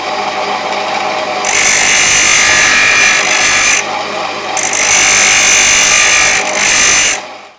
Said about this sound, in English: what we have here is just a normal drill press with a wasp sander attached